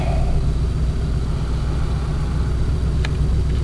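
A V8 car engine rolls up to a gas pump with a steady, loud low rumble and an even idle-like drone throughout, with a faint click near the end.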